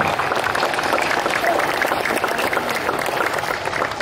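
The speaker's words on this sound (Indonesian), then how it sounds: "Kasih tepuk tangan." Applause from a crowd at a Heroes' Day ceremony, a dense, steady clapping that fills the whole stretch at moderate loudness.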